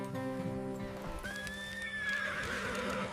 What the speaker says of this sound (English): Keep your horse quiet and don't move unless I call